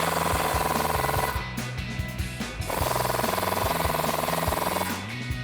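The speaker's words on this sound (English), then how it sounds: "Take a 19 millimeter socket and pull these out." A power tool, likely an impact wrench with a 19 mm socket, rattles out the lower ball joint cradle bolts on a 2005-2023 Toyota Tacoma front suspension. Two loud, sustained hammering bursts with a short pause between them, close up and with no talk.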